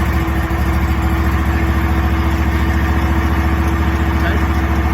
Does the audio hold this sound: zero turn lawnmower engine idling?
yes